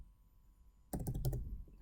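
Keyboard keys clicking in a quick burst as player IDs are typed on a computer keyboard, close and fairly loud after a second of quiet room tone.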